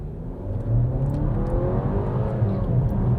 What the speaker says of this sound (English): That's the thing about these 2-liter turbos is they're not like throaty or exciting noise-wise.